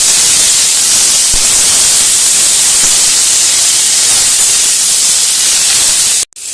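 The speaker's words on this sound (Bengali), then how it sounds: "পটলটা ভালো করে ভেজে নিচ্ছি একটু ভাজতে হবে ভালো করে কষিয়ে নিতে হবে" Pointed gourd (potol) frying in a pan, a steady, loud hiss of sizzling oil running unbroken for several seconds before cutting off abruptly at the end.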